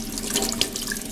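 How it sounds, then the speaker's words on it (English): Warm water running from a tap over paint brushes at a sink, a steady close hiss of flowing water with small splashy variations throughout. "I'm just gonna run the warm water"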